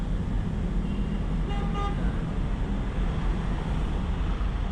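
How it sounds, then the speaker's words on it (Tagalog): Steady, loud road traffic rumbles throughout, with a brief car horn toot cutting through the din around the middle. "So sobrang traffic nga lang dito sana."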